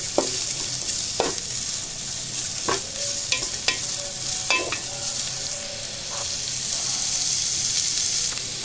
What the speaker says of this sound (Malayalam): അപ്പോൾ ഞാനിത് 2 മിനിറ്റ് വഴറ്റിയിട്ടുണ്ട്.